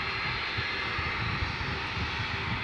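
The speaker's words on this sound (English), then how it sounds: "It's the nightly flight to Doha from Qatar Airways. This is their 777." A Qatar Airways Boeing 777 jet on the nightly Doha flight at DFW Airport at night, its engines giving a steady, continuous broadband roar that holds at an even level throughout, with no voices.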